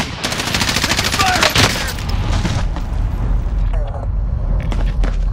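A military shooter video game produces rapid automatic gunfire. Loud, dense machine-gun bursts come close up with a sharp crack partway through, then thin into scattered distant shots, and voices shout over the battle.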